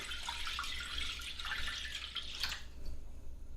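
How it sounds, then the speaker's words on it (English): Water pours steadily into a cooking pot set on a stove, a continuous close splashing and trickling stream lasting a few seconds with no talk over it. "Just carefully pour that in without spilling."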